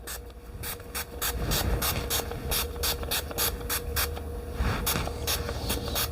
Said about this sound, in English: spray some of my heat protectant on it